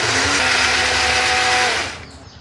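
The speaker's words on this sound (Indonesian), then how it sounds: "Ini mau kita haluskan, boleh pakai ulekan ataupun pakai blender kayak gini juga boleh." A kitchen blender grinds garlic, ginger and turmeric into a spice paste, running loud and steady with a whirring motor drone for about two seconds before abruptly cutting off.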